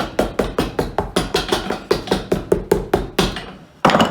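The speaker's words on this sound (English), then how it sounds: "we're going to hammer down the stitches" A hammer taps down the stitching on a leather desert boot under restoration, about fifteen sharp, evenly spaced blows in quick succession, close and loud, with a short pause before a final strike.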